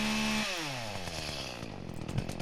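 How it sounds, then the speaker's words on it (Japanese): A chainsaw cuts upward into the underside of a garden tree limb until the bar gets pinched, the engine's steady whine dropping and labouring into a strained, sputtering drone, loud and close with no talk. "チェーンソーが挟まれました。"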